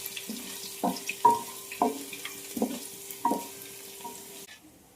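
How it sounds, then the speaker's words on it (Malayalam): Chopped ginger and garlic frying in oil in a pan, a soft continuous sizzle broken by repeated scraping strokes of a spatula stirring, about seven knocks, close by. "മുറിച്ച് വച്ചിരിക്കുന്ന ഇഞ്ചി എടുത്തിടാം കൂടെ വെളുത്തുള്ളി ഇടാം അതിനുശേഷം നല്ലവണ്ണം മൂക്കുന്നത് വരെ ഇളക്കുക"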